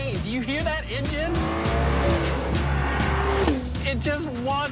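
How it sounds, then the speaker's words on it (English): A high-performance car revs hard with sweeping engine pitch, while its tires squeal and skid in wavering tones. The sound is loud and close, and voices are heard over it. "Do you hear that engine?"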